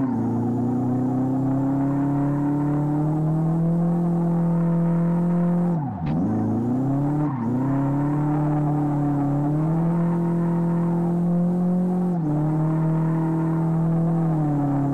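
A Chevette Tubarão 1.6 with a naturally aspirated engine holds a long burnout in the racing game Live for Speed. Its small motor drones steadily at high revs with brief dips, loud and close, and no voices can be heard.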